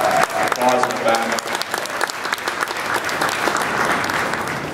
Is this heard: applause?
yes